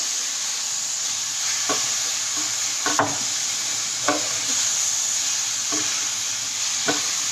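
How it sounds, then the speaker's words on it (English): Jumbo shrimp for General Tao sizzle in a frying pan with a constant bright hiss. Several light clicks from a stirrer or scraper tapping the pan punctuate the sizzle. "Here comes the giant jumbo shrimps."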